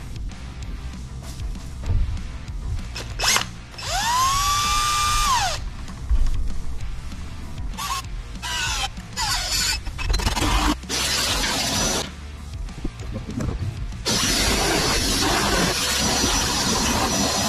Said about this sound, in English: I'm going to cut this circle out to mount the hour meter.